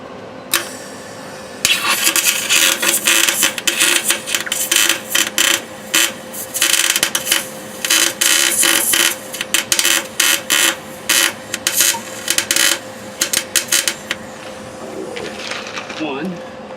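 Welding of rear differential spider gears, heard as dense bursts of crackling arc welder noise with a steady electrical hum underneath, stopping and restarting in short runs.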